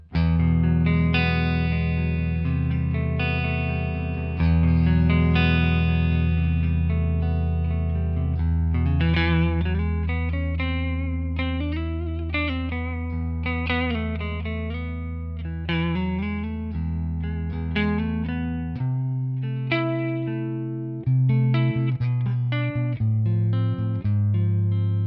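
Electric guitar played through a Tonex ONE amp capture with a fat clean tone and reverb added, sustained chords and melodic runs ringing out loud and close, with no voices.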